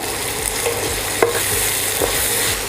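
Onions frying in a pan for butter chicken, a steady dense sizzle with occasional stirring scrapes and a brief clank, close and continuous throughout, no talking.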